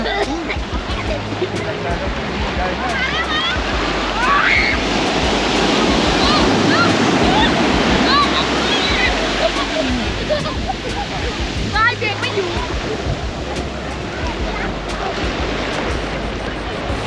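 Ocean waves break and wash continuously onto Nai Harn Beach, a broad steady roar with wind buffeting the microphone throughout.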